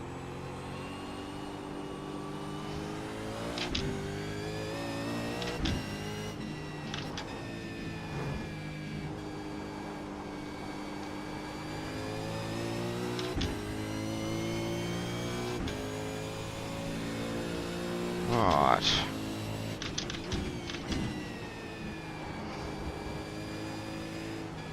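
A V8 Supercar in iRacing at Oschersleben holds a loud, steady engine drone with stacked harmonics that rise and fall through gear changes, with occasional sharp shift breaks and a brief spike near the end; a voice speaks once briefly.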